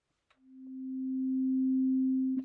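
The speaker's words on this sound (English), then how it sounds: "Attack controls how quickly the sound goes from nothing to full volume." A single low note from the Vital synth, set with a slow attack, fades in gradually from silence and swells to a sustained, pure hum, with faint clicks at the very start and end.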